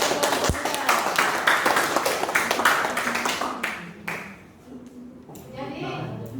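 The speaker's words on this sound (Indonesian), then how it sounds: "Tepuk tangan untuk Tuan Pemuda." Students clap after a classroom presentation at a senior high school, a dense burst of hand claps for about four seconds that thins out, with voices chattering over and after it.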